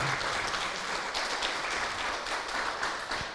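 A church congregation applauds, a dense, continuous wash of many hands clapping at close range for a few seconds.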